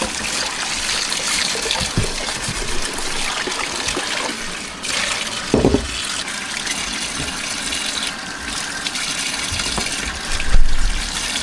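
Raw meat for brawn being rinsed under a running tap, water gushing and splashing steadily and fairly loud, with occasional clunks of the meat and pot, no one talking.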